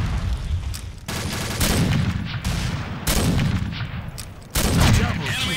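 Gunfire from a video game battle: several loud, sharp shots spaced about a second apart, each with a heavy boom and echoing tail over continuous low rumble.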